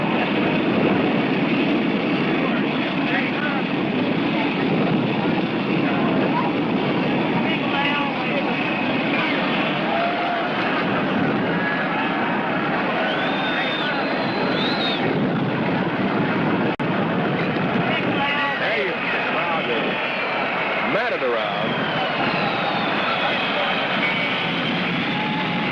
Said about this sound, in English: Here comes the big jet in.